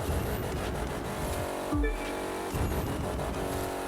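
Racing car engines whining and buzzing continuously, with a brief sharp shift mid-way, like cars passing at speed.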